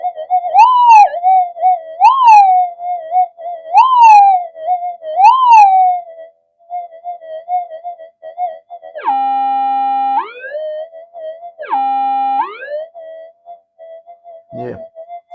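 A Minelab GPX-4500 metal detector resting in place, sending out warbling, wavering tones, then steady buzzing hums that swell and drop repeatedly, loud and close, with no talking.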